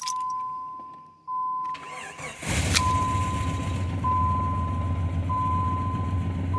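A Jeep engine with a freshly fixed ignition coil cranks and catches, then settles into a steady rumbling idle, preceded by a faint chime and a short click, close and loud with no talking.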